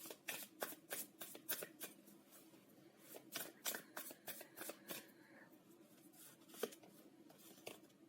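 Tarot cards are shuffled close and quietly in a rapid, repeated riffling, soft papery bursts that come in a steady rhythm for the whole stretch.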